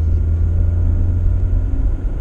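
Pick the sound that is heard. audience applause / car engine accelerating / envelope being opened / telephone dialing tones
car engine accelerating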